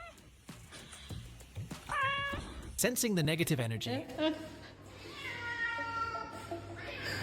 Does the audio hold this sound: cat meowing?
yes